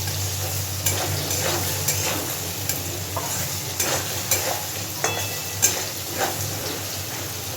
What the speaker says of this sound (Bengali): আলু আর পটলটা একটু হালকা ভেজে নিয়েছি।